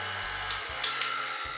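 Electric hand mixer beating panettone batter with margarine, a steady whirring drone with brief changes in pitch and a few light clicks as the beaters knock the bowl.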